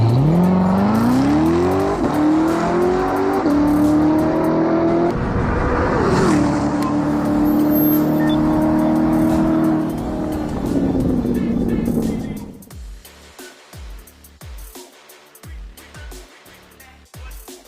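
A loud engine roars as a drag car on Nitto NT555RII tires launches at full throttle, revs climbing through gear changes before cutting off abruptly, followed by quieter intermittent clattering noises.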